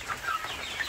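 Free-range village chickens, Indonesian ayam kampung kept in a flock at Umbaran, clucking softly over a steady outdoor background, with a few short higher calls standing out briefly.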